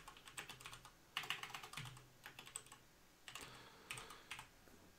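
Fingers type on a computer keyboard in quick clustered bursts of clicks, with short pauses between runs, close and fairly quiet, without speech.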